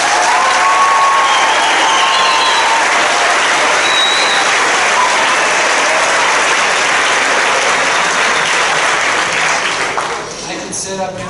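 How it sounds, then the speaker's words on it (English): Loud, sustained round of applause from a ceremony audience honoring middle school teachers at an 8th grade continuation event, dense clapping throughout that thins slightly at the end. "I really want to give a round of applause to our teachers at Basalt Middle School"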